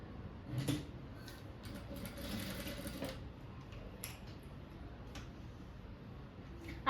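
A sewing machine stitching a three-dart blouse runs in quiet bursts of rapid mechanical ticking, with short pauses between runs of stitches.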